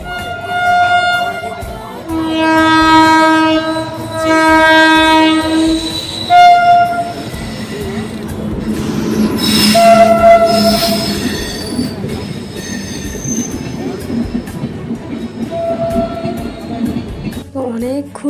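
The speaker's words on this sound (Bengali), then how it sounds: "অনেকক্ষণ ওয়েট করার পর ফাইনালি ট্রেনটা চলে গেল" A train passes close by at a crossing on a carnival outing. Several loud, sustained horn blasts sound early, then wheels rumble and squeal on the rails, with brief horn notes near the end.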